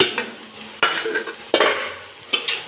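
A metal pot of cooking bohar bhaji greens gets handled and covered with its lid, giving four sharp, close clanks spaced roughly evenly, each ringing briefly before fading.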